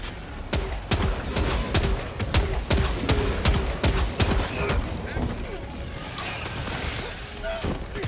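Dense, rapid gunfire from Helldivers 2 crackles in loud bursts throughout, with a turret and explosions mixed in and a voice talking underneath.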